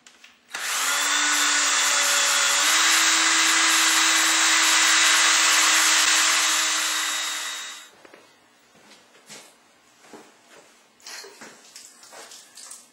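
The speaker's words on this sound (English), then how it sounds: "continue to drill some holes out" A power drill whirs loudly and steadily for several seconds while drilling holes for an aquarium sump, then stops, followed by quieter scraping and handling sounds.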